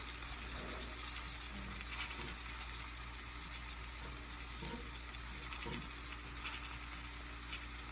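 Morel mushrooms sizzle and crackle steadily in hot Crisco shortening, a constant bright frying hiss with occasional soft pops and clinks throughout.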